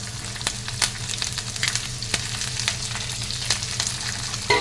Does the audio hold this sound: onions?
yes